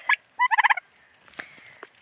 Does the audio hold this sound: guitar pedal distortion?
no